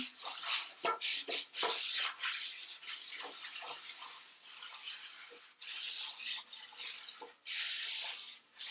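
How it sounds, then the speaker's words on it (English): Greasing a round cake tin by hand makes close, uneven bursts of dry rubbing and swishing with short pauses between strokes, and no voices come through. "you want to grease it all the way around the tin"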